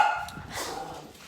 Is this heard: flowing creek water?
no